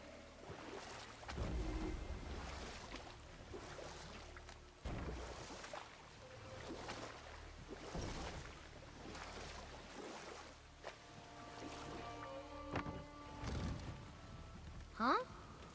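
Boat gliding across water in the God of War video game, set in Midgard, with steady wash and splashing, waves and wind, plus a few game tones near the end and a brief sharp accent at the close.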